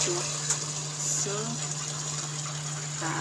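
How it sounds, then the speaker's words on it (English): A washing machine spins clothes and squeezes out water, a steady mechanical hum with a high whine and gushing, splashing water throughout, while a person speaks briefly. "You see the way it is squeezing water, a lot of water."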